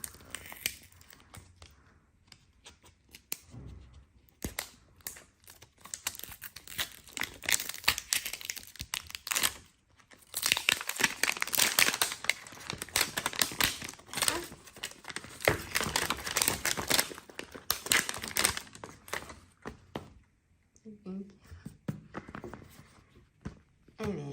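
A crinkly plastic wrapper on a Rainbocorns Bunnycorn plush surprise egg is torn open and handled, bursts of loud close crackling and rustling with short quiet pauses between.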